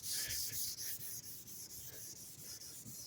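Steady, repetitive rubbing strokes of hand sanding thick primer on a 1967 Corvair four-door body, close up, about a dozen even back-and-forth passes with a dry, hissing scratch.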